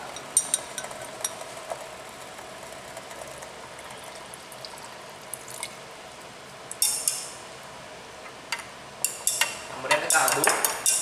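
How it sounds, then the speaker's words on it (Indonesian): A utensil stirs a thick starch paste in a pot, scraping and clinking softly against the metal in scattered strokes that grow busier and louder toward the end, close by with no talk. "Kemudian kita aduk sampai terbentuk pasta kanji iorida"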